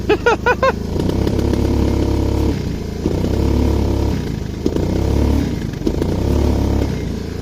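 A small go-kart engine with a restricted throttle revs loudly and close up in repeated surges and dips, each rising to a rough buzzing roar before easing back, with a brief clatter at the start.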